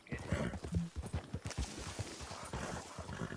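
A horse in Red Dead Redemption 2 clops its hooves in a quick, uneven series of close thuds, with a brief whinny-like tone early on, all fairly quiet.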